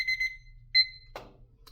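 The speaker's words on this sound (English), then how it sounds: "And then there is our timer." A timer alarm going off during a timed haircutting exam, rapid electronic beeps in short bursts, close and clear, followed by a brief clatter.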